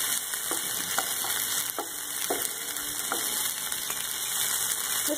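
Ginger and already-fried onions frying together in a pan make a constant bright hiss, broken by a series of light scraping taps from stirring at uneven intervals, close and steady with nobody speaking.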